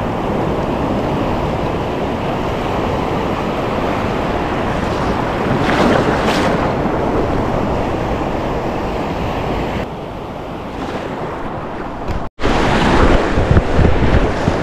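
Steady roar of waves from an incoming tide washing onto a beach, continuous and loud with heavy wind buffeting the microphone, a brief dropout near the end before the rushing surf resumes.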